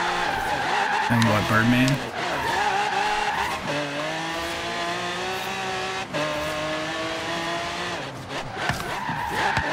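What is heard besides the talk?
cars drifting with tire skids in Forza Horizon 3 video game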